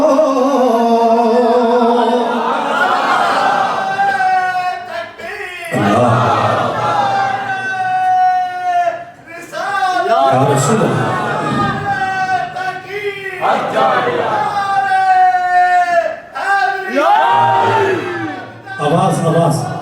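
A large congregation at a Ramadan Friday gathering loudly shouts slogans in unison, with repeated bursts of massed voices answering a leader's chant and short pauses between calls.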